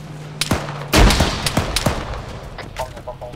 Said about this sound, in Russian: Кидаю гранат.